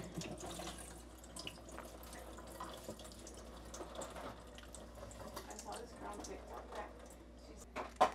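Tap water runs steadily into a sink while food is washed, a soft continuous splashing stream heard close by with a person talking over it.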